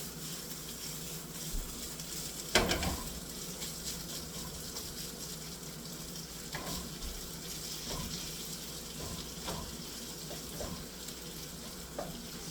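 Pork and sliced mushrooms stir-frying with chili paste in a hot pan, a steady close sizzle with occasional louder clatters and tosses of the food, no talking.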